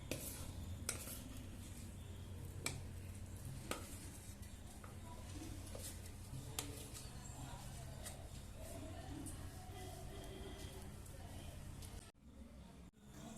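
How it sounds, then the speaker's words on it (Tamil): Cake batter for a Christmas cake goes from a bowl into an oiled, lined baking pan, with repeated scraping and clinking of a spoon against metal at close range, and a short quieter stretch at the end. "இப்போ எல்லா பேட்டரையும் எடுத்து அந்த பாத்திரத்தில் கம்ப்ளீட்டாக மாற்றிக்கலாம்"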